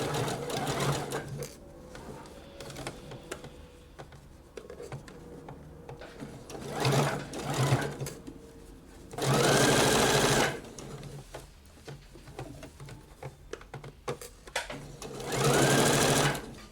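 Sewing machine stitching a blouse sleeve in a home sewing setup, running in two loud sustained bursts of a few seconds each with quieter handling sounds and fabric rustle between them.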